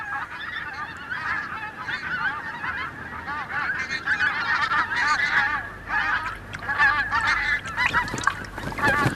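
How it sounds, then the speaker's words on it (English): A large flock of pink-footed geese wintering on a British wetland honks continuously, overlapping calls near and far forming a dense, lively chorus with no voices. "pink-footed geese from Iceland have overwintered here"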